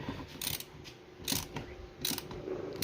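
A ratchet turns bolts on a Cforce 600 ATV, bursts of rapid, close clicking in three short runs separated by brief pauses.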